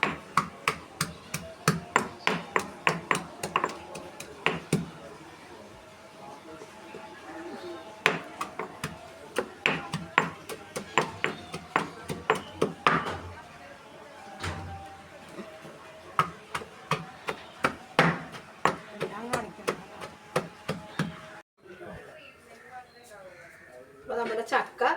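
Jackfruit being pounded for jackfruit thoran, a long run of sharp, steady thuds near at hand, with a voice talking between the strikes.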